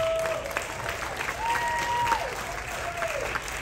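An audience at a headliner show aboard the Royal Caribbean cruise ship Oasis of the Seas applauding steadily, a full, even clapping from a seated crowd in a theater, with faint whistles over it.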